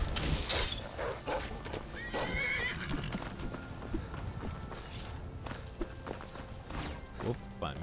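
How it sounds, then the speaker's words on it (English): Horse in the video game Skyrim neighs and whinnies over brisk clip-clop hooves of a gallop, close and fairly loud, with game noises and a voice speaking briefly alongside. "Horse."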